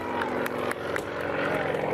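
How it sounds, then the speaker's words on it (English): An airshow airplane's engine drones steadily and loudly during takeoff as the pilot rolls it just above the ground, a close continuous propeller roar with no talking. "he pulls back and rolls the aircraft on takeoff"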